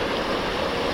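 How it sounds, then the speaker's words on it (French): A small mountain torrent rushing downhill, a steady broadband wash of water heard close and unbroken for a brief moment. "Petit torrent qui dévale."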